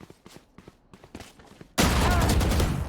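Soft footsteps and light taps in the video game Valorant, during a ranked match, give way to a sudden loud burst of automatic gunfire that sustains to the end.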